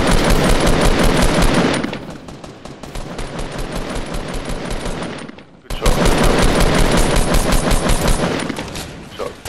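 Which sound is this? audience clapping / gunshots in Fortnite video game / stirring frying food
gunshots in Fortnite video game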